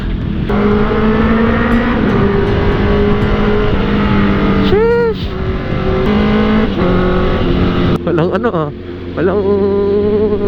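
Heavy road traffic on EDSA in Manila rumbles steadily and loudly, with engines droning, a horn-like tone rising midway, and more vehicles accelerating near the end.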